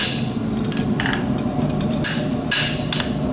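A farrier's hammer, struck with its round side, shapes a horseshoe held in cross tongs, pushing metal out from the center; about half a dozen sharp, ringing blows land at an irregular pace, close up over a steady background hum.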